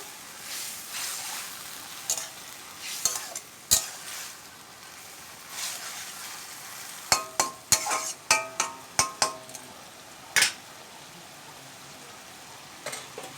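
Parshe fish frying in a pan with water lilies for a curry, giving a steady low sizzle broken by sharp clinks and scrapes as a spatula stirs against the pan, close by and with no talk.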